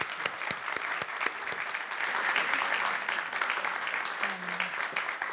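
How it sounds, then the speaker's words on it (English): Audience giving a hand to a guest at a science salon evening, a steady, moderately loud wash of many clapping hands with no talk over it. "And now then I wanted people to give you a hand,"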